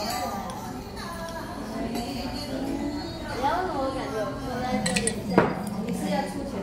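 Glasses clink together during a family toast at a Korean restaurant, one bright clink standing out briefly amid lively overlapping conversation and tableware sounds.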